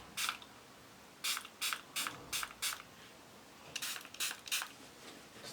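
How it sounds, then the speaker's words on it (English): A spray bottle of homemade green tea scalp spritz misting in quick bursts, one single spritz followed by two close clusters of four and five, crisp and near with quiet pauses between. "spraying it on my scalp where the parts are."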